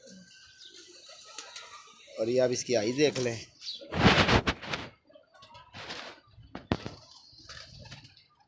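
A female high-flying pigeon, caught at night, gives a few close, throaty coos in short bursts, amid rustling and wing noise, while someone talks nearby.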